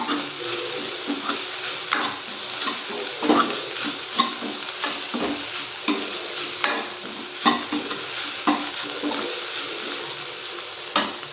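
Adai dosa ingredients sautéed in a pan, a steady close sizzle broken by repeated scraping strokes of a spoon stirring through the mix, with no voices.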